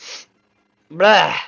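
A person sneezes once, a sharp loud burst at close range, after a brief spoken word and a pause of silence.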